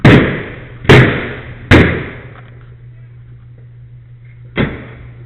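Firefighters strike forcing tools against an inward-swinging door: three loud, sharp impacts in quick succession, a pause with a low hum, then a fourth strike.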